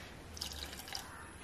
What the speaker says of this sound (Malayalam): ഇത് വേവാൻ ആവശ്യത്തിന് വെള്ളം ഒഴിച്ചെടുക്കുക